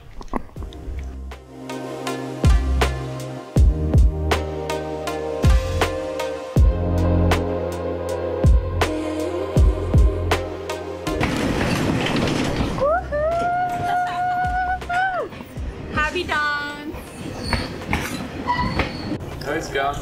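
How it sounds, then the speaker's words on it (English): A TAZARA passenger train rumbles and clanks into the station at Mbeya, Tanzania, its horn blaring in loud repeated blasts, then wheels squeal as it slows, with excited voices around it. "That is the train."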